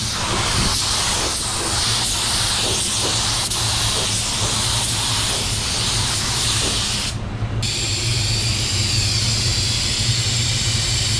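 Spray gun laying a first coat of PPG Waterbase paint reduced 20% at 25 PSI: a steady, loud airy hiss running almost continuously, with a brief cut-off near the end before spraying resumes.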